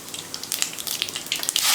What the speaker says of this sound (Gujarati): એ પછી જીરું એડ કરવાનું છે